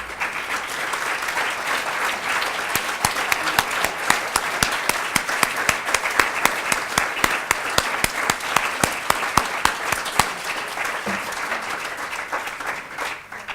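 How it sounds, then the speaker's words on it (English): Audience applause honoring Holocaust survivors at a museum gathering, a dense, steady burst of many hands clapping at close range that continues for over ten seconds before tapering at the end, with no talking over it. "So let's just give you all a round of applause today too."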